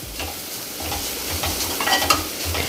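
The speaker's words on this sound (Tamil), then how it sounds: "தேங்காயும் கொஞ்சம் வதக்கி போட்டுடலாம்" Grated coconut sizzles in hot ghee while a spoon stirs and scrapes the pan in short repeated strokes, close by.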